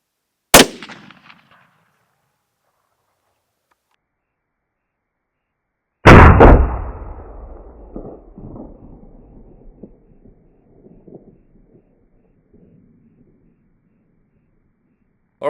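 Two sharp rifle reports, .243 or .22LR, ring out on an open rabbit warren, one brief crack early and a louder shot later whose echo rolls and fades over several seconds.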